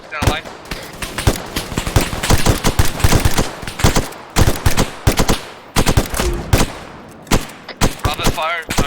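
Rapid gunfire in ArmA 3 during a platoon training battle, loud bursts and single shots crackling close and in quick succession, with radio voices speaking between the volleys.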